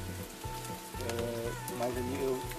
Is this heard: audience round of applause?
no